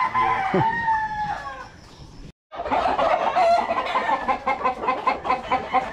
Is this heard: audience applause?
no